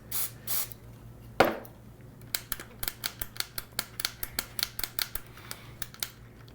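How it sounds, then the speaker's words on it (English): A short hiss of contact cleaner sprayed into the band switch of a Sanyo MZ52 cassette radio, followed by a steady series of small, evenly spaced mechanical clicks as the switch is worked repeatedly, up close and quiet. "So let's spray out this one here."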